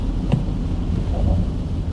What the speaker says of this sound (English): now you can hear the rain of the windshield